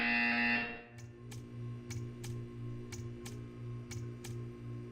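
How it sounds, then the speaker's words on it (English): A loud harsh buzzer in Portal 2 blares for about a second, followed by quieter ticking pulses over a low steady drone. "You will hear a buzzer."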